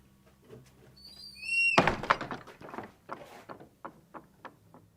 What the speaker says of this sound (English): just heard this door slam